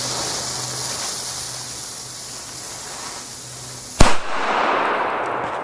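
A single sharp Donnerschlag firecracker bang, near and loud, after several seconds of steady hiss, followed by a brief rumbling echo.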